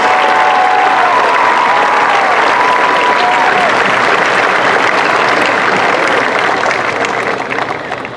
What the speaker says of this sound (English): Please give these 2 a round of applause.